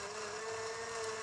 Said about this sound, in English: Nothing like the sound of a blender when you're hungover.